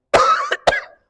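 One person coughs close by in two quick, harsh bursts, then silence.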